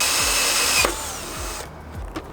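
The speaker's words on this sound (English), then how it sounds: "you're gonna need your 1-inch drill bit or a hole dozer" A power drill fitted with a 1-inch bit or hole dozer whirs loudly and steadily while drilling a hole in a Sprinter van, its pitch and load shifting as it bites, then winds down near the end.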